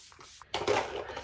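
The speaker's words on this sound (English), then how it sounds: "I'm gonna go in with my setting spray again, and I like to put a little bit on." Makeup setting spray misted onto a face during an everyday routine: a single close, breathy hiss begins about halfway through and holds steadily to the end after a quiet start.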